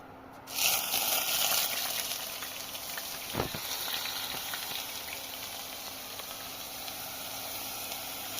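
Onion paste goes into hot oil, bursting into a sudden loud broadband sizzle that settles into a steady, close frying hiss with a brief soft thump midway.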